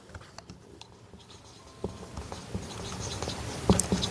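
Pen or marker writing out coordinates during a Class 9 maths lesson: faint, scratchy, irregular strokes that grow a little louder and busier toward the end, with no speech.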